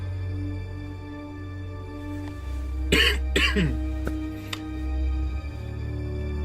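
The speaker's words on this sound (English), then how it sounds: "I have a little bit of a cough and stuff" A person who is still a little sick coughs late at night: a short cluster of two or three harsh, close coughs in the middle, over a steady low room hum with no talk.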